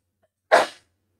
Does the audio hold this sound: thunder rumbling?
no